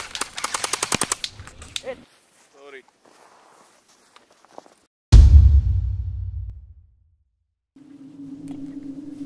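Airsoft guns fire BBs in a snowy winter field: a rapid automatic burst of sharp cracking shots, then a single loud close shot with a decaying boom, followed by a steady low hum; faint voices occur between shots.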